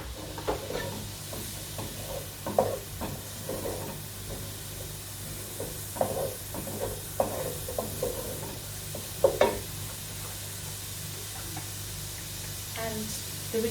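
Chopped vegetables sizzling in a pan with pasta sauce for cheesy pasta, a soft steady fry under repeated scraping stirs and occasional clinks of the utensil against the pan, close and moderately quiet.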